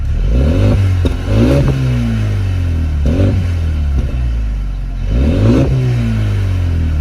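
Mercedes CLA 35 four-cylinder exhaust revving in several loud, close bursts that rise and fall, with short gaps between throttle blips and no talk.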